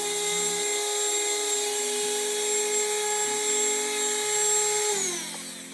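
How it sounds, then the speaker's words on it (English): A Dremel rotary tool sands the edge of a foam-style prop, a steady high-pitched whine with slight dips in pitch as it bears against the work, then spins down at the end, loud and close. "all I'm doing is sanding it down a little bit with a Dremel"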